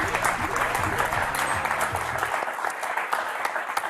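Studio audience on a French word-game show applauding the contestants, a dense sustained wash of clapping that stays steady and loud through the clip, with music underneath fading out midway.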